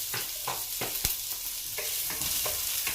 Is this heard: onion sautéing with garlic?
yes